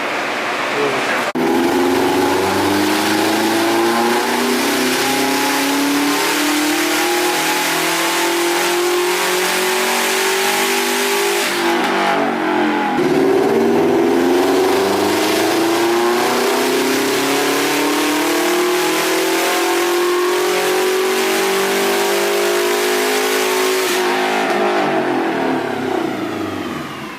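A car engine revs hard on a dynamometer, loud and close, climbing through two long sweeping pulls with a brief drop between them and a fade at the end; the car is said to make around 500 horsepower.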